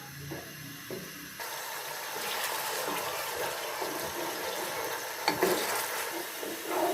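Sliced onions fry in oil for a biryani, giving a continuous sizzle under repeated spoon scrapes and stirring noises, close and moderately loud.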